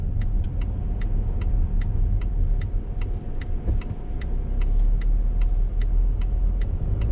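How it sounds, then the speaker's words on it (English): A 2023 Volvo XC60 B5 AWD drives with a steady low engine and road rumble inside the cabin, a regular indicator ticking in the background. "first impressions driving this car, really smooth, really soft, really easy to drive"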